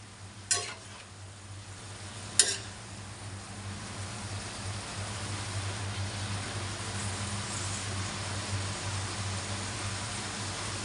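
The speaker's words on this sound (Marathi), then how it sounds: "आता आपण भाजीला परतून घेऊया भाजी आपण आता मस्त अशी परतून घेऊया" Two sharp metal clinks of a spatula on a hot griddle, followed by a soft, steady hiss of fenugreek greens frying quietly.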